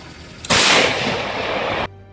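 A single heavy artillery blast bursts in abruptly and roars as a loud, sustained wash of noise for over a second before cutting off.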